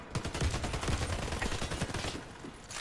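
FAMAS rifle firing in the online shooter Warface, rapid bursts of close gunshots in quick succession filling the short stretch.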